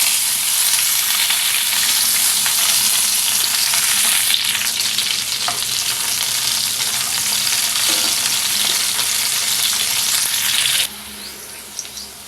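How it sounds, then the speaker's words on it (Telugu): Capsicum pieces fry in heated oil in a pan with a loud, steady sizzle that runs for about eleven seconds, then drops to a quieter crackle near the end. No one speaks. "దీనిలో క్యాప్సికమ్ ముక్కలు వేసుకుని ఫ్రై చేసుకుందాం"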